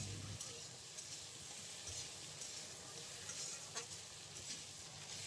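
Potatoes, pumpkin and grated ginger sizzling in a pan as they are stirred while frying, a steady soft crackle with occasional scrape sounds, fairly quiet throughout.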